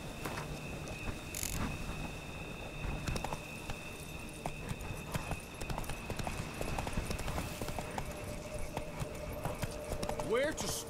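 Horse hooves clip-clop steadily in The Witcher 3: Blood and Wine, a continuous trotting rhythm close by, with game sounds and a brief voice near the end.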